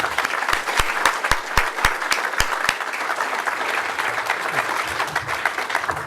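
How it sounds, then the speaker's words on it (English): Steady applause from an audience, sharp claps standing out early over a dense wash of clapping that continues throughout. "So please give a round of applause to Graham Williams."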